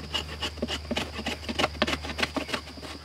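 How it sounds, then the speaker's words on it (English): Knife spine scraping repeatedly across a surface to make fine tinder for a flint-and-steel fire, a close series of quick rasping strokes in steady rhythm with no voice. "Scraping at a 90 degree angle, or I could even use the spine of my knife"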